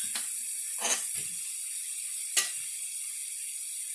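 Shrimp for scampi cook in a pan with a soft, steady sizzling hiss, punctuated by a few brief scrapes and clinks of a utensil.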